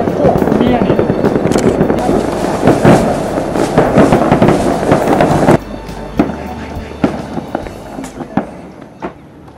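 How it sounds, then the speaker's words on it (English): Fireworks crackle and boom in rapid, dense bursts at a celebration in Yichang, China, loud and continuous at first, then thinning to scattered pops and bangs. "As you can hear, our guide's narration got drowned out by fireworks."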